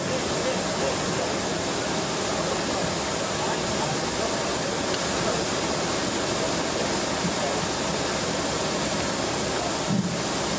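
A jet aircraft carrying repatriated people from the Gaza Strip to Brazil gives a loud, steady broadband engine roar with a high whine on top, continuous for the whole stretch and heard alone.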